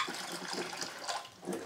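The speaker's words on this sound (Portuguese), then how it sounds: "Coloca mais ou menos meia panela d'água." Water runs and splashes faintly into a pan, filling it about halfway for a water bath, soft and uneven for a moment.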